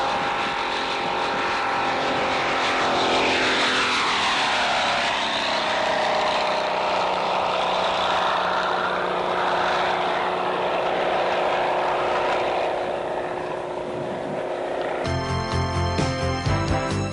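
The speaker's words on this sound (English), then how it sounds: "Here we fly in formation with the Dynacam over the hills of Chino Valley, California." A propeller airplane's Dynacam revolver cam piston engine drones steadily and loudly throughout, flying over the hills of Chino Valley, California, its pitch shifting as it passes, with a rougher rattling tone near the end.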